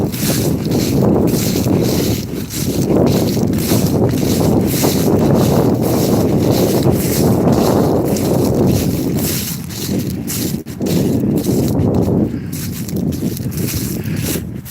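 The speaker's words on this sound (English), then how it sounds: "See, now I'm walking into the wind." Strong wind buffets the microphone of someone walking into it outdoors, a loud continuous low roar that surges and dips in gusts throughout.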